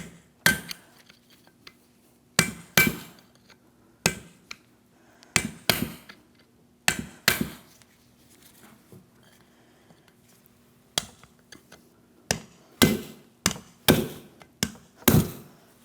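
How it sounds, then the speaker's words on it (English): Sharp metallic hammer taps on an angled pry bar while removing a front wheel bearing and hub on a 2007-2014 Ford Edge, in irregular bursts, some in quick pairs and clusters, ringing briefly over a faint steady hum. "I'm going to tap on it with a hammer here."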